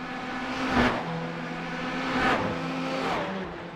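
Ferrari Challenge race cars at speed at Phillip Island circuit, a steady high-revving engine drone with two louder swells as cars sweep past, no talk.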